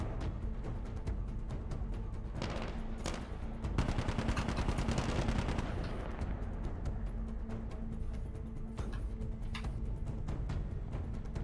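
Sustained MG3 machine gun fire in the co-op shooter Insurgency: Sandstorm, long rolling bursts of rapid shots that swell louder for a couple of seconds before settling into steady distant-sounding fire, with no talking.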